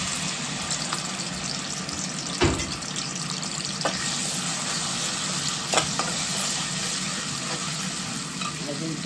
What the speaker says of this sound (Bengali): পেঁয়াজের মাঝে আমার রসুন আছে ব্লেন্ড করা মশলা আগে কষিয়ে